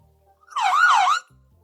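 A synthetic siren sound effect added in a video edit wails once in a smooth rising-and-falling sweep, clean and isolated against near silence.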